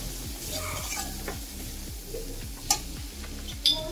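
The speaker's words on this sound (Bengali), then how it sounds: "তো মশলাগুলো আমি ভালো করে একবার নেড়ে নেবো" Spices sizzle steadily in a pan for Bengali chicken kosha while being stirred, a constant low frying hiss with a few sharp clinks of the utensil against the pan, close and quiet.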